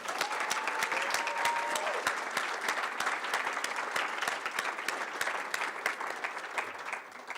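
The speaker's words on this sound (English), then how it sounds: "so one last applause here." A crowd at a graduate showcase evening applauds the graduates, steady dense clapping sustained throughout with a faint tone briefly audible early on.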